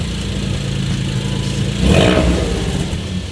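A cheap track race car's engine idles with a throbbing rumble through an exhaust that still has a muffler. Partway through it gives one sharp rev, then drops back to a steady idle.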